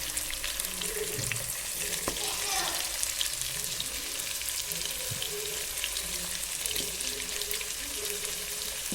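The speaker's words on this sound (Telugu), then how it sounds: "ఒక్కొక్క పీస్ని ఆయిల్లో కొంచెం ఆయిల్ వేసుకొని ఫ్రై చేసుకోవాలండి" Pieces of softened chicken frying one by one in a little oil for Arabic-style chicken mandi, a steady broadband sizzle with occasional clinks and watery splashes, close and continuous throughout.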